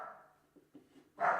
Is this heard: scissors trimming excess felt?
no